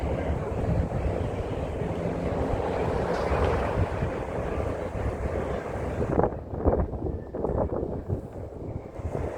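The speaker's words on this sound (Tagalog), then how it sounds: "Mahangin guys." Steady wind rushes and rumbles against the microphone on a Hong Kong rooftop promenade at night, then eases into rougher, choppier buffeting toward the end.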